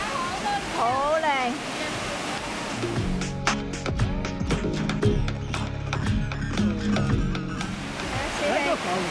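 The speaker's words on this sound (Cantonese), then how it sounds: "瀑布好大水啊" Waterfall on Wang Chung Stream in full flow after heavy water, a continuous close rushing roar of falling water that carries on throughout, with people talking over it.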